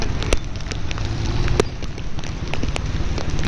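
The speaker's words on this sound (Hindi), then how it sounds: "तो ये देखें आप, माशाल्लाह से बारिश का मंजर" Heavy rain pours in Karachi, a constant loud hiss of drops with a rumbling low wind-like roar and scattered sharp ticks, close to the microphone and steady throughout.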